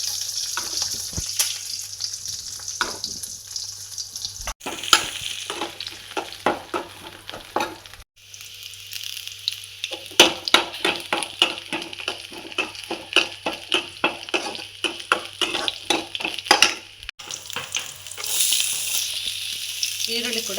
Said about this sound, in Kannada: ಈಗ ಎಣ್ಣೆ ಬಿಸಿ ಆಯಿತು ಕಾಯಿ ಮೆಣಸು ಶುಂಠಿ ಬೆಳ್ಳುಳ್ಳಿ